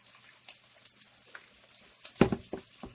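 Meat pie filling being mixed in a frying pan: a soft sizzle with scattered light scrapes, then a louder cluster of clanking stirs near the end, all close by and with no voices.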